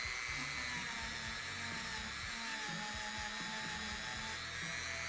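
A rotary tool spins a brass wire wheel against rusty D-rings, giving a continuous, fairly quiet high-pitched whine with wavering pitch and a scratchy buzz as the bristles scrub the metal.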